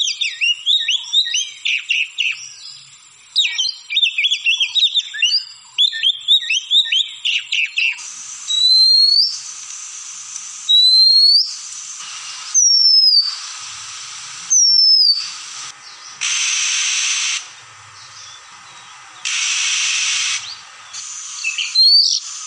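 An Oriental magpie robin (Copsychus saularis) sings rapid, varied chirping phrases in loud, close bursts, then shifts to clear rising whistled notes spaced by short pauses, interspersed with brief broad noisy bursts.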